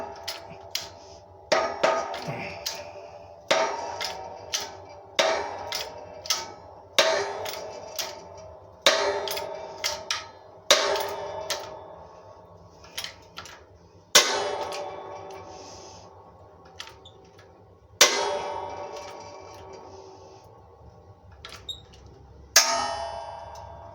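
Metal clanks and sharp knocks from pressing a pin into a BSA Bantam crankshaft flywheel in a workshop, with about a dozen loud strikes at irregular intervals, each ringing and decaying, and no talk.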